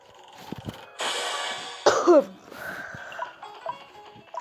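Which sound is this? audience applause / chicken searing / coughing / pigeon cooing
coughing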